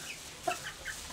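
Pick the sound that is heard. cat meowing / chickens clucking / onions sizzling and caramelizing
chickens clucking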